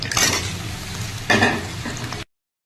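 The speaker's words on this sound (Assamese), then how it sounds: "অকণমান ফ্ৰাই কৰি লৈছোঁ আৰু এতিয়া বইল কৰা চিকেনখিনি দিম" Chopped onion and chicken frying in a pan, a close, bright sizzle with stirring scrapes and a sudden louder burst midway, ending abruptly.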